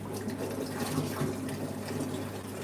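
Water gushes and splashes steadily while an aquarium tank in a fish room is flushed, a dense, continuous rushing sound close by with no voices.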